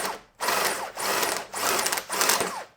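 A drill bores a test hole in a workpiece in four steady, buzzing runs, each lasting about half a second with brief gaps between, close and moderately loud.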